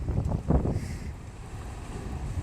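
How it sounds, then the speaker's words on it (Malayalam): Strong sea waves surge around a fishing boat, with a heavy low thump of water early on and then a steady churning wash under gusty wind buffeting the microphone, with no talk. "ശക്തമായ തിരമാലകളാണ്"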